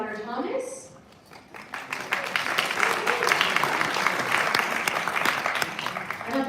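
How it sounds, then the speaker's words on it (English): An audience at a city council candidate forum breaks into applause, a dense wave of clapping that swells after a brief spoken moment and continues loudly to the end. "I don't think we ever had applause before."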